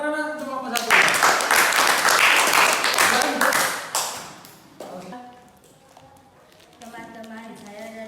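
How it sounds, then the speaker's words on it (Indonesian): Classroom applause for a student group presenting results, a burst of quick, sharp clapping from many hands that swells, then fades out into voices talking. "Oke, beri tepuk tangan untuk kelompok 1."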